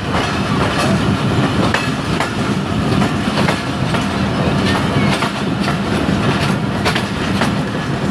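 A passenger train running on a railway line between Jhelum and Karachi, heard from on board as a steady loud rumble with repeated clickety-clack of wheels over rail joints throughout.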